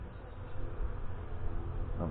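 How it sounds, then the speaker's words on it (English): Honey bees buzz around a hive during a late-April inspection, a steady low droning hum that stays close and continuous throughout, with no voices. "There are a lot of bees in this area"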